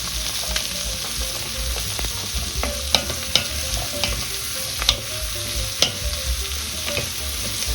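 Vegetables added to onions in a hot pan for osso buco, steady sizzling with repeated sharp scrapes and clacks of a utensil stirring them.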